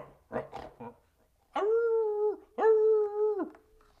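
A leashed tracking dog, a dwarven short-haired pointer, gives two long mournful howls, each about a second, after a few short yips or faint vocal sounds at the start, fairly close and clear.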